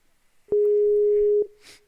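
A steady telephone tone holds for about a second, starting and stopping with sharp clicks, followed by a brief faint noise burst; close and clear with no talk.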